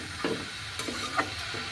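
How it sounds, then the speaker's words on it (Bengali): Bengali spice paste (masala) stir-fried in a pan for a bottle gourd and mung dal dish, with a few quick scraping stirs over a soft, low sizzle. "মশলাটাকে ভালো করে কষিয়ে"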